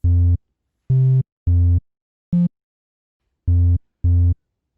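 Synth bass with added EQ and distortion plays six loud, buzzy, harmonic-rich notes with gaps between them, one shorter higher note in the middle, rolled-off highs, no voices.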